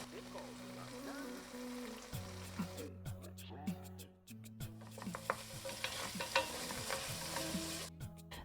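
Garlic, ginger paste, tomato, salt and spices fry and sizzle in an oily pan for a mutton curry, with steady crackling broken by scraping stirs and a short lull near the middle.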